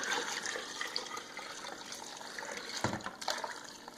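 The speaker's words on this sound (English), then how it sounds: "all you do is dump in your Zote water" Soapy laundry water made with Zote soap splashes and gurgles steadily as it is poured into a 5-gallon bucket, with a brief louder gush near the end.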